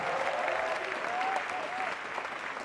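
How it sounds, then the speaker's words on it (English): A crowd applauds loudly, a dense steady clatter of many hands clapping, with a faint tone drifting through it. "Give yourselves a big round of applause."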